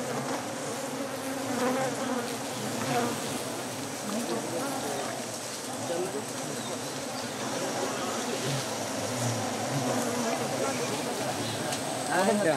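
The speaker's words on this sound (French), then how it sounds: "Pour enfumer les abeilles et se protéger de leurs piqûres, les hommes utilisent des torches en feuilles de palmier" A swarm of honey bees in the Sundarbans of India being smoked out with palm-leaf torches, a dense, steady buzzing drone that fills the whole stretch, with a narrator's voice speaking over it.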